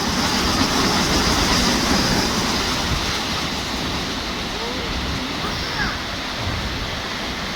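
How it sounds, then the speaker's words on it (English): Small waterfall in a shallow stream, producing a dense, steady rush of water that stays broad and loud throughout with no other distinct sounds. "A little tiny waterfall in here."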